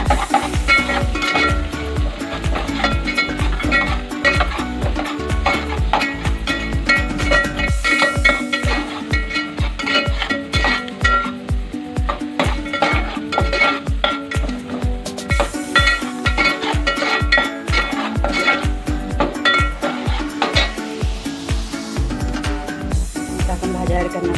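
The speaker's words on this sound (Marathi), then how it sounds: "आता आपण लसूण अद्रकची पेस्ट टाकूया।" Garlic ginger paste frying with onion in a pan for vegetable pulao, a steady close sizzle under rapid rhythmic stirring and scraping taps that keep an even beat throughout.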